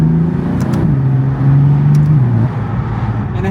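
A BMW F82 M4 with the S55 engine and equal length midpipes drones with a deep, steady exhaust tone that dips and shifts slightly in pitch, heard close and continuous with no talk.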